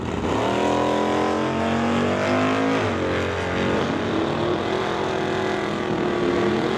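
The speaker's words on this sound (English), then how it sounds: "Now Dennis Winton coming up right side of the racetrack. Very cool wagon." A drag racing wagon on the racetrack at Mission, BC, roars loudly and steadily, its engine pitch climbing through the gears as it accelerates near and constant throughout, with no voices.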